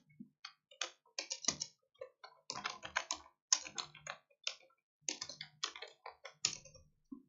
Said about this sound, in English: what I'm typing